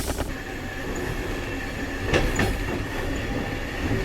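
A one-man local train in rural Japan, in a train-driving video game, rolls along the track with a steady, close rumble, a few sharp wheel clicks and a rising swell of noise near the end.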